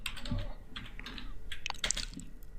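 Code being typed on a computer keyboard, a soft, uneven run of close key taps with no talking.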